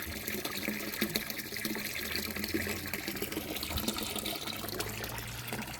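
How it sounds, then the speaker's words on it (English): A pond pump turned all the way up sends water gushing steadily into a DIY pond filter, a continuous splashing, rushing flow heard close with no voices. "the pump's turned all the way up, and the water level has risen"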